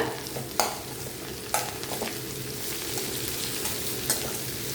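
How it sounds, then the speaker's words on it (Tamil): Bitter gourd and tomato sautéed together in a pan, a continuous close sizzle broken by several sharp clacks of a spatula stirring and scraping, no voices. "சேர்த்துட்டு நல்லா வதக்கி விடுங்க"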